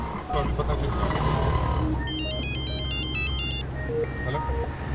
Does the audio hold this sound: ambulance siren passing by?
no